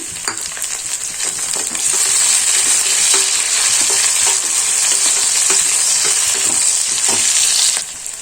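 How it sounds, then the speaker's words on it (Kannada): Onions and green chillies frying in a pan for navane menthya bath, a loud, close, continuous sizzle with scattered light taps and scrapes of a spatula, cutting off near the end. "ಈರುಳ್ಳಿ ಇವಾಗ ಚೆನ್ನಾಗಿ ಫ್ರೈ ಆಗಿದೆ ಇವಾಗ ನಾನು ಹಸಿರು ಮೆಣಸಿನ್ಕಾಯಿನ ಆ್ಯಡ್ ಮಾಡ್ಕೊತಾ ಇದ್ದೀನಿ"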